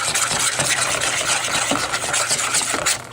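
A spoon scrapes and stirs chipotle chicken wing sauce in a stainless steel bowl on a stovetop, giving close, continuous rhythmic scraping and swishing with light metallic rubs.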